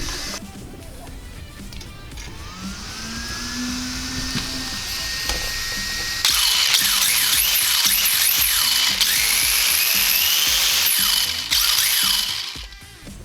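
AWD drift RC car drivetrain gears whirring after a gear mesh adjustment, a whining mechanical hum that rises in pitch and intensity midway, running close and steady before winding down at the end.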